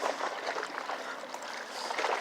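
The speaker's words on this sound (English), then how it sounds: "The waves are calming." Small waves washing against the causeway shore along open bay water, a steady broadband wash and lapping that stays fairly even with no talk.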